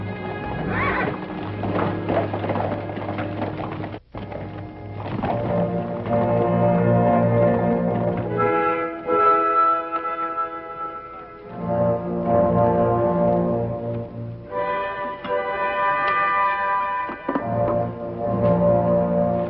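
Horses ridden across open country in a Western TV drama, with steady clip-clopping hooves and repeated neighs and whinnies filling the scene at a close, full level.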